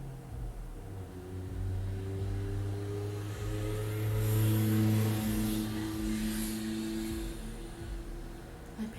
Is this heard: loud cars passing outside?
yes